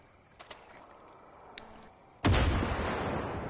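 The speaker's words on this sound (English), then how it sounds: "Someone's shooting you at the right, man." Gunfire in Far Cry 5, a couple of faint distant pops and then one loud, sudden blast that rolls into a sustained rumbling roar to the end.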